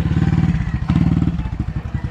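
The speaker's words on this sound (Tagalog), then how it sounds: "Inaayos ni Kojoks yung kanyang motor" A motorcycle engine idles nearby with a steady, throbbing low rumble that pulses rhythmically and dips briefly before resuming.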